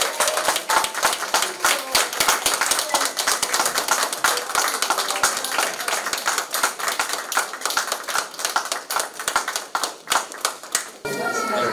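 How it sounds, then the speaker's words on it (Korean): Audience claps at an exhibition opening for clay sculpture works, many sharp, closely spaced handclaps from a small nearby crowd, loud and rhythmic for about eleven seconds, stopping abruptly near the end as a voice begins. "우리 크게 박수 한번 치면서 마치는 걸로"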